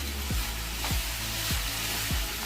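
Sliced bitter gourd with curry leaves and salt frying in a pan for Kerala-style mezhukkupuratti, a steady close sizzle with four evenly spaced stirring scrapes as it is mixed.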